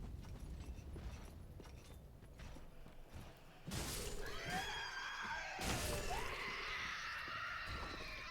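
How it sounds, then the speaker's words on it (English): Shrill metallic screeching in the video game Dark Souls III, rising abruptly after a rumbling stretch into grinding, wailing tones with a couple of sharp crashes, fairly loud and sustained, no talk. "Cool metal screams."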